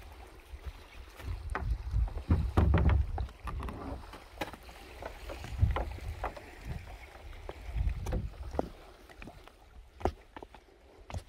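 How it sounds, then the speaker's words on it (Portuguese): Kayak paddled on choppy water, with irregular splashes and paddle strokes, water slapping against the hull and rumbling wind buffeting the microphone, no voices. "Hoje não está o melhor dia para andar de caiaque, que o lado está batendo muito."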